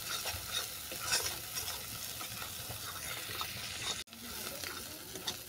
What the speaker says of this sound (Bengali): যতক্ষণ না মশলা থেকে তেল ছাড়ছে ততক্ষণ কষিয়ে নেব।